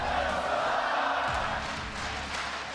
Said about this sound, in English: The San Francisco crowd chanting, "Let's go Cloud9,"